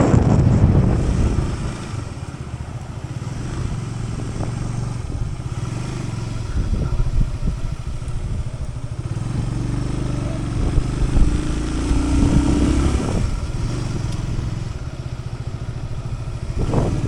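A motorcycle rolling into a parking lot in Leh, Ladakh, its engine running steadily and near throughout, with wind buffeting the microphone and a brief rise in engine pitch partway through, with no talk.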